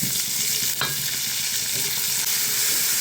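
Shrimp and onion frying together in a pan, a loud close hiss of sizzling oil with spatula stirring and a single sharp clack near the start, no voices.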